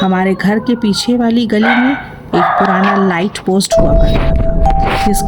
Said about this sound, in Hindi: सिर्फ दूर कहीं कुत्ते भौंक रहे थे।